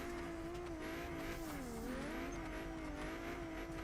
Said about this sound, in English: this Mustang sounds really sick. It just sounds bad when drifting